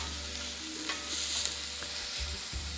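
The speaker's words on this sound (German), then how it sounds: "schön anschwitzen, schön anbraten in den Speck, da der schön knusprig wird." Bacon sizzles and crackles in a hot pan on an Austrian kitchen stove, a steady frying hiss with occasional stirring scrapes and low thuds, and no one speaking.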